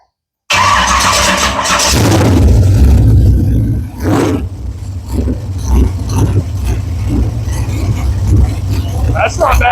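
A dirt modified race car engine cranks and fires up with a loud roar, then settles into a rough, throbbing idle with uneven revs, close by and dominating throughout.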